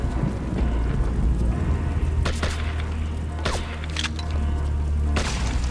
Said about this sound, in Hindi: ये ग्रेनेड किसने फेंका है?